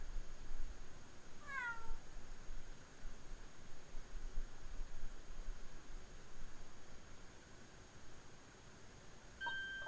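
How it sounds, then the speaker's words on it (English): A cat in the Great Ace Attorney video game gives a single short meow early on, fairly faint over a steady hiss of background noise, followed by a brief electronic beep at the end. "Oh my, what an adorable little cat."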